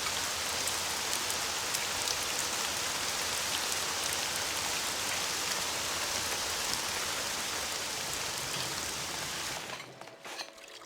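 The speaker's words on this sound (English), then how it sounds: "I'm glad that it's raining" Steady, dense rain from the Caesar IV city-building game hisses loud and even for about nine seconds, with no talk over it, then cuts off abruptly near the end.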